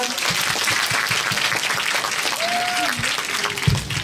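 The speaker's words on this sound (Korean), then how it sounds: "이민웅 선배님께 한번 박수 부탁드립니다" A school festival audience gives a guest a round of applause, broad clapping holding steady throughout while a voice briefly speaks and a few short tonal notes rise over the crowd.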